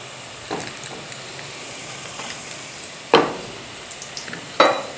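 Sliced onions fry in half a cup of oil for a quick pulao, a faint steady sizzle broken by a few sharp scrapes or stirring clinks of a utensil against the pan.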